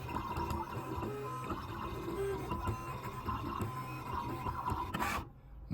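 A Siser Juliet cutting machine cuts a printed sheet, a continuous mechanical whirring with rapid ticks and carriage movements, fairly faint, stopping abruptly near the end.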